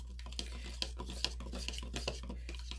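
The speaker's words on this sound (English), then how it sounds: "give a good stir" A spoon stirs a homemade yeast infection remedy in a small bowl or jar, with repeated scraping clinks against the container in an uneven rhythm, close and fairly quiet over a steady low electrical hum.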